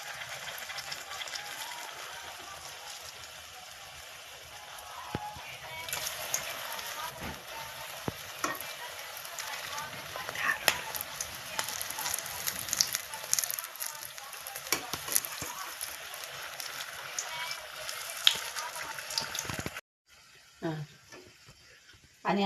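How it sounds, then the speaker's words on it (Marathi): Green chillies coated in besan batter fry in hot oil with a steady, close crackling sizzle that swells and eases across the stretch, with occasional stirring scrapes and a short pause near the end. "आणि अशा पद्धतीने सगळे मिरच्या तळून घेतलेले आहे"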